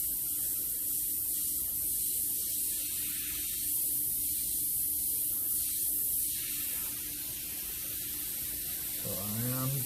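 Freehand airbrush spraying paint for a smoke effect gives a steady, close, airy hiss that runs almost the whole time, with slight swells in pressure and a brief different noise near the end.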